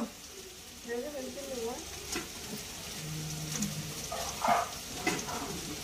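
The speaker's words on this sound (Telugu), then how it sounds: "కొంచెం హైలో పెట్టుకొని అరటికాయ వేయించేసుకుంటే ఫ్రై లాగా వస్తుందా" Raw plantain frying on high heat in a pan in a home kitchen, giving a soft, steady sizzle with occasional stirring, while people talk in the background.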